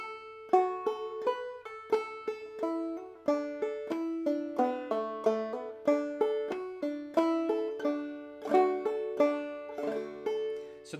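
A solo clawhammer banjo plays the A part of the old-time tune Belle of Lexington, a steady, bouncy stream of bright plucked notes and brushed strums in even rhythm, close and clear without any talking.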